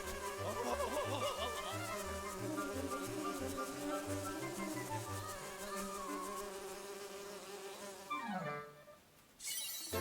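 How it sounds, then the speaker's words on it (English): Bees buzz in the Link's Awakening video game, a steady insect drone woven through a bright, bouncy chiptune melody, ending in a quick falling sweep before a brief pause. "Let him borrow your stick and he'll have some bees chase him away"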